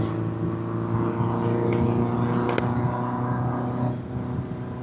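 A 1979 Honda CB750F Super Sport motorcycle engine drones steadily while riding in fifth gear at around 50 mph, a loud continuous hum with wind rush and a slight dip near the end.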